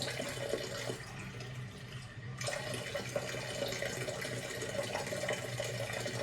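Spring water runs steadily from a drinking water station in Japan, a continuous close splashing stream like a tap, briefly dipping before resuming.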